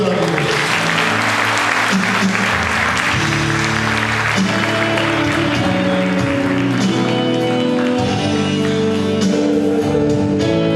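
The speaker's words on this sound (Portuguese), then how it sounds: "Aplauda esse Deus maravilhoso." A church congregation claps during a worship service, loud continuous applause mixed with sustained music and singing throughout.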